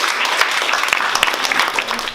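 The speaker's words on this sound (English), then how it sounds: "So can we give a big round of applause to everyone?" Audience applause at a school maths competition prize event, a steady patter of many hands clapping at moderate distance, even and unbroken throughout.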